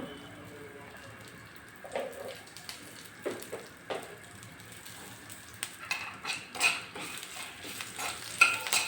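Curry leaves crackle and sizzle in hot oil for Kannada-style amla saru, with a steady low fry under scattered clinks and scrapes of a stirring spoon against the pan.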